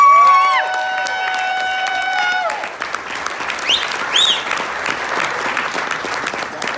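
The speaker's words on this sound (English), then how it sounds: "let's give them a quick round of applause" Wedding guests applaud the couple during a best man's toast, a broad, steady wash of clapping from a room full of people that follows a few seconds of sustained tones and carries on with a scattered cheer or two.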